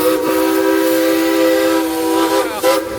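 A Dollywood steam locomotive sounds its whistle, a loud, sustained, near chord-like blast lasting about three seconds with a short dip and catch near the end.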